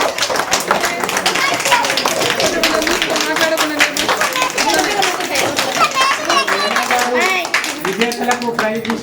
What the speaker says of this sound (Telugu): మనం మన సర్పంచ్ గారిని అభినందనగా అందరూ క్లాప్ కొట్టాలి.